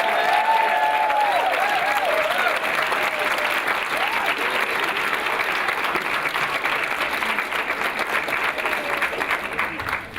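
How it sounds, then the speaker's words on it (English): Loud, sustained applause from a crowd at a graduation ceremony, broad and continuous, with faint voices and cheers mixed into the clapping. "give our beautiful graduates a round of applause"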